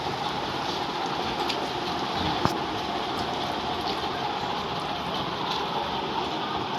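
Steady rain hisses evenly throughout, a dense broadband wash with no voices, with one brief sharp tap partway through.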